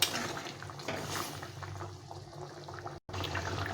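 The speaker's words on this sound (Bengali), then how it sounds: "রেখেছিলাম গরম জল, সেই জলটা দিয়ে দেবো।" Hot water is poured into a cooking pot of potatoes for an egg curry, giving a steady splashing gush that breaks off briefly near the end and then resumes.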